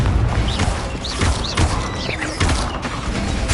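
Confringo fire spell effects in Hogwarts Legacy, a burst of several sharp magical whooshes and crackling impacts in quick succession, loud and close over continuous game sound.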